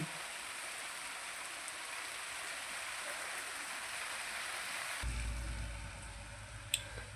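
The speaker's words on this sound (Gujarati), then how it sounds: "જોરદાર વરસાદ ખૂબ પડી રહ્યો છે" Heavy rain pours down steadily, a dense, loud hiss that fills the whole stretch, joined late by a low rumble and one sharp knock near the end, with no talking.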